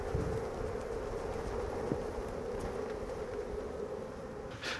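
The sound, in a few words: bees buzzing around a beehive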